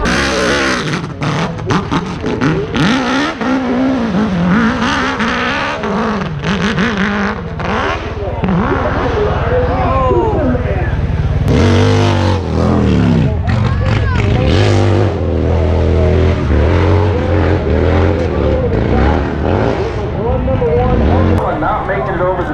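A turbocharged Viking motorcycle at an AMA Pro Hill Climb race revs and accelerates loudly, engine pitch sweeping up and down amid crowd hubbub and an announcer's voice.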